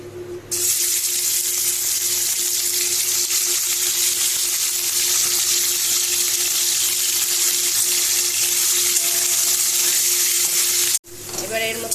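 Meat sizzles loudly and continuously in hot oil in a wok, a dense steady crackle with a short break near the end.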